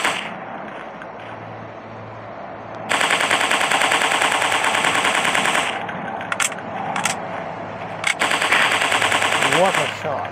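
Rapid automatic gunfire from a dinosaur hunting shooting video game on Android, long loud bursts with brief pauses between them, with a voice talking at moments.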